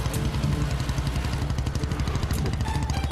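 A motorcycle rides along with a steady, pulsing engine drone and light rhythmic clatter, carrying two riders in a Telugu film date scene, close and continuous without talk.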